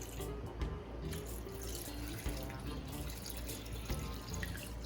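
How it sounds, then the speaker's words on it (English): Water poured from a tap into a pot of ground provisions, pumpkin and corn for a vegan soup, making a steady close rushing splash that runs on evenly without a break. "what I've added here is 6 cups of water"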